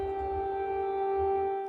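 Air raid sirens wail over Kyiv after midnight, a sustained steady tone with strong harmonics holding level throughout, over low rumbling background noise.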